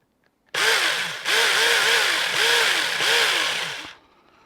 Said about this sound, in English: put the battery on and give it a couple of whizzes just to spin it round